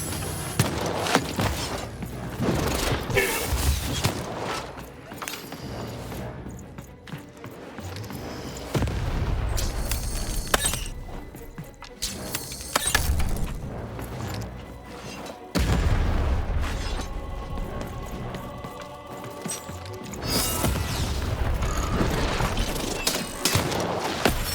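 Cannon blasts in the video game Lost in Random, a series of heavy booms and rumbling impacts over a dense, loud battle soundscape with mechanical clatter, continuing throughout.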